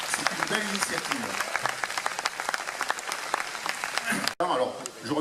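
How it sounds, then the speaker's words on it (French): An audience at the opening of a summer festival in Coudoux claps steadily, dense applause filling the room with rapid overlapping hand claps and a brief dip near the end. "vous pouvez peut-être applaudir parce que c'est une belle initiative"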